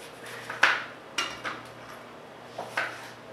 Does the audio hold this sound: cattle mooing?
no